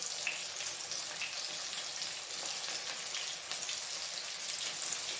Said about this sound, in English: you're gonna put your chicken into the oil